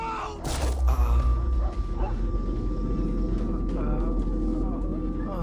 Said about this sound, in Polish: Znaczy psy nas gonią.